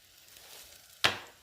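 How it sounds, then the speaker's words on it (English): Soy sauce slurry poured into boiling beef stock for ginger beef and broccoli gives a single sudden splash and hiss, close and fairly loud, fading quickly over a faint quiet bubbling background. "Now that our stock has come to a boil, we're going to add in the soy sauce slurry"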